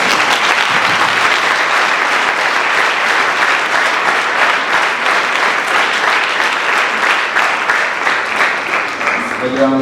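Dense, steady applause from a large audience at a church testimony gathering fills the whole stretch, loud and continuous clapping with a slight swell of crowd noise and a faint voice near the end.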